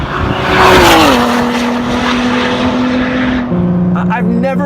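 A Ford GT's V6 engine roars while driving, a loud, steady drone whose pitch sags as the car shifts gears, then settles into a lower, rumbling note.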